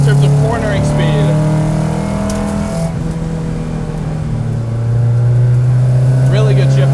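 A 1969 Datsun 510 track car corners hard on a road, its engine droning steadily up close, the note falling and rising again as it pulls through the bend, with no talk over it.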